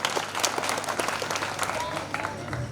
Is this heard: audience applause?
yes